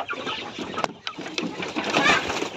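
Young native chickens cluck in a short run of close, irregular calls on a farm, with some soft background noise between them.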